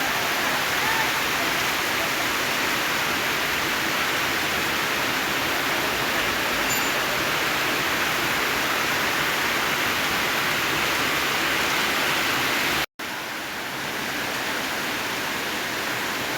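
Heavy night rain in Chittagong pours in a dense, steady roar with no pauses and breaks off for an instant near the end before resuming, loud and close, with no voices.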